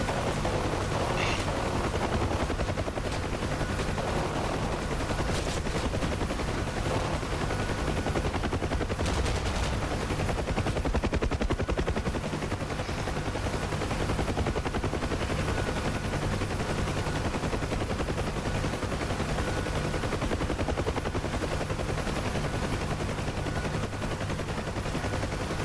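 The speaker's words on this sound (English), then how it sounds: "Taking ground fire. Probably infantry." Machine gun fire rattles in bursts from the ground in the DCS Huey game, loud and continuous under a dense helicopter rotor and engine drone.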